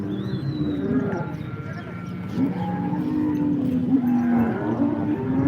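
Cattle lowing at the Modnimb cattle market as cows keep arriving, several moos rising over a busy background of crowd noise and livestock movement, with people talking throughout.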